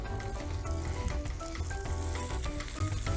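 Salmon and prawn burger patties frying in oil, giving a dense continuous sizzle with soft crackles and no voices.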